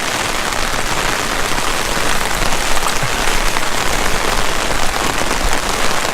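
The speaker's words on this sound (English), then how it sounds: "Had over 4 inches of rain in 3 hours so far." Heavy rain pours during a flash flood that overwhelms a driveway and its underground drainage pipes, a dense, loud, unbroken hiss of water hitting the surfaces close by, with no one speaking.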